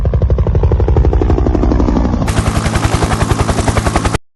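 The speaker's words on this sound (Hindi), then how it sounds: "शहर की गश्त के लिए एक हेलीकॉप्टर तक मंडराने लगा" A helicopter hovers over a city as a sound effect in an audio drama: a loud, steady rotor thumping that turns brighter and harsher midway, then cuts off abruptly, with no voices.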